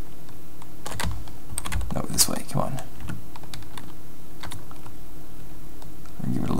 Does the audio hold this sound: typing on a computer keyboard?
yes